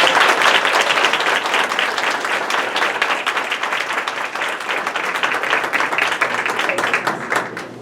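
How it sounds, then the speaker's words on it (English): A large audience breaks into a sustained round of applause at an indoor November 2014 gathering, dense steady clapping that fills the whole stretch at a fairly loud level before thinning slightly at the end. "Let's give them another round of applause."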